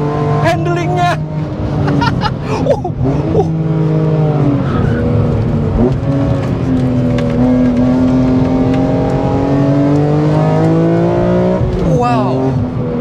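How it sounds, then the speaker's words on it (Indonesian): BMW M3 E46 CSL with a naturally aspirated 3.2-litre six-cylinder engine, pulling hard with a loud, smooth rising engine note. Harmonics climb steadily through the gears, with a person talking over it throughout. "melaju dengan sangat cepat diiringi dengan melodi mesin normally aspirated 3200 cc 6 silinder yang sangat merdu"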